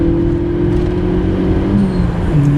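A Mk1 Volkswagen GTI, front-wheel drive, runs with a steady, close, throaty engine drone that holds a near-constant pitch, dipping slightly toward the end.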